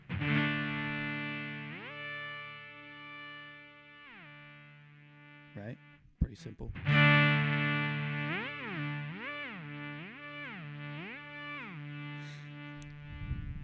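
A sustained electric guitar chord rings out, then a foot switch engages a Boss SY-200 synth pedal, shifting into a rhythmic synth-like effect with pitch steps pulsing up and down; a brief spoken comment interrupts midway.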